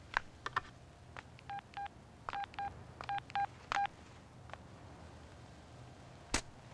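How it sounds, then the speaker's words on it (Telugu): A phone number is dialed on a touch-tone telephone: a quick series of short electronic beeps in uneven bursts, fairly quiet, ending with a single sharper click, with no one speaking. "ఒక ఫోన్ చేసి చూద్దామా."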